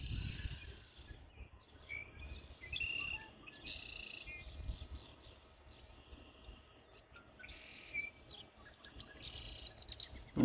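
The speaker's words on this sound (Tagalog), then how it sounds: "Ay, ang sasaya ng mga ibon ngayong spring" A springtime chorus of birds, with scattered chirps, trills and brief whistled phrases at moderate distance over a constant soft outdoor hiss, and a quicker run of calls near the end.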